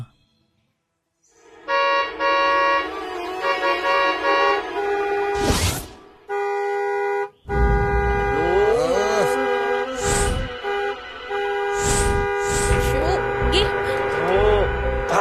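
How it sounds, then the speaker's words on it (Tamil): A car horn blares in long, sustained honks, broken by brief bursts of people talking nearby. "பெரிய மகாராணி ஹார்ன் அடிக்கிறாங்க"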